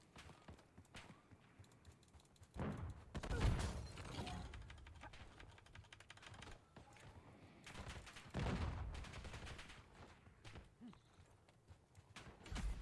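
Gunfire in a video game crackles in a few loud, rapid bursts over a low background rumble, heard alone without speech.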